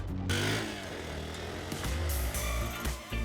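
A Hero XPulse 200 4V motorcycle engine revs and accelerates up close on a road, its pitch climbing and dropping with gear changes over a continuous roaring drone.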